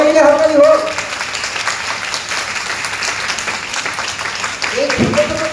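At a leadership award event, an audience bursts into applause, a dense wash of clapping from many hands, with a voice speaking briefly just before it starts and again as it fades.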